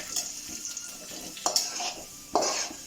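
Urad dal, toor dal, dried red chillies and curry leaves frying in hot oil in a pan, with a steady soft sizzle and a few sharper stirring scrapes and clinks from a spoon, close and alone.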